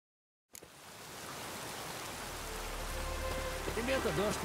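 Steady rain falls in The Witcher 3, a dense, even wash of drops that starts abruptly and builds slightly louder, with faint voices emerging near the end.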